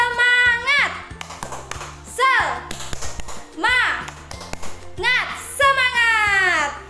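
Schoolchildren in a classroom chant the tepuk semangat clapping cheer, their high voices rising and falling between rhythmic hand claps and taps.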